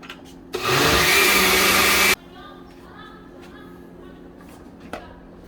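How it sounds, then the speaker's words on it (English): A blender whirs loudly for about a second and a half, blending a sauce for poblano shrimp Alfredo pasta, then cuts off, leaving a quiet room with faint background noise and a small knock. "Should have used the other blender for this, but it's all good."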